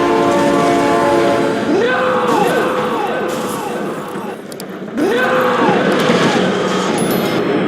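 Train horn blasts from a passing train in the BeamNG driving game, two long wavering horn calls with a short dip between, loud and close, over the rumble of rolling wagons.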